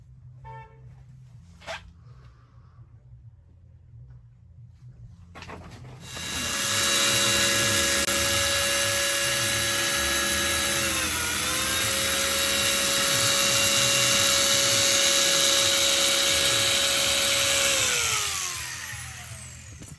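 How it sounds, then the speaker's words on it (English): A power tool drives screws from offcut battens into a narrowboat dinette frame, a loud sustained whine that holds steady for over ten seconds after a quiet start with a brief tap. "I'll screw it into there, but the dinette foam will be covering up those screws"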